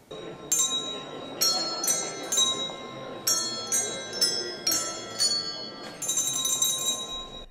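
Handbells ring at a university Advent concert in Sopron, with about a dozen bright, ringing strikes in an uneven rhythm. Some are single and some come in quick clusters, each decaying over a faint background murmur.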